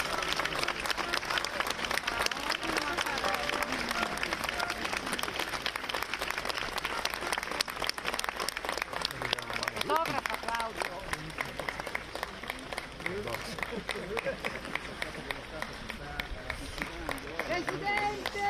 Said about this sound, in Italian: Sentiamo gli applausi.